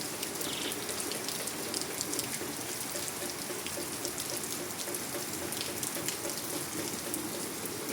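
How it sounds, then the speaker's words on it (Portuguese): Heavy rain pours steadily on a gloomy winter morning, a dense, continuous close patter and hiss that holds level throughout with no voices. "Mas pra cá tá chovendo bastante."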